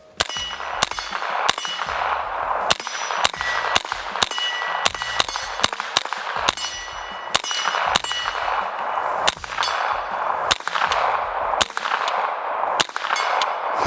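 Steady, loud shots from an Angstadt MDP-9 pistol-caliber carbine fired with the stock collapsed, sharp reports coming in quick succession roughly every half second, each with a metallic ring.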